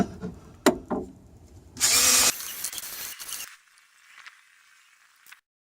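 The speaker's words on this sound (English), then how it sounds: "Gonna hit this with the wire wheel." A power wire wheel cleans the rear hub of a Volvo V50, giving a loud broadband burst of about two seconds mid-clip, preceded by clanks and followed by a fading whir.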